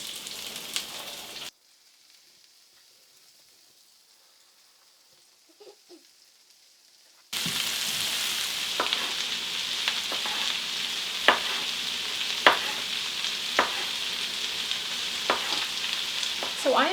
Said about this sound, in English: I'm just putting it all into the skillet.